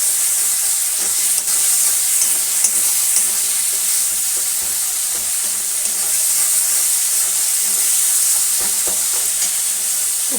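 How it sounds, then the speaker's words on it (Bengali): Garam masala sizzles in hot oil in a kadai while ghugni is being made, a loud, steady frying hiss with occasional stirring clinks and no talking. "প্রথমেই তেলের ওপর গরম মশলা দিয়েছি"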